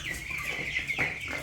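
Broiler chickens, about a hundred birds on a farm, cluck and chirp together in a dense, steady chorus close by.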